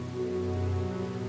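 Heavy rain pours steadily in a continuous, dense hiss that stays even and close throughout, with a low tonal hum running beneath it.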